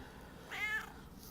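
A single short meow from a house cat, fairly clear and close, rising briefly out of a quiet indoor background.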